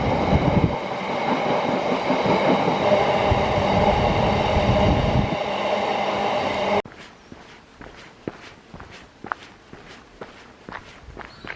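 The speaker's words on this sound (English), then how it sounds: "one of the most spectacular rail routes, which is the Manchester to Sheffield line" A train on the Manchester to Sheffield line near Edale in the Peak District passes loudly up close as a dense, roaring rush. It then cuts to quieter rhythmic footsteps on a hillside walk.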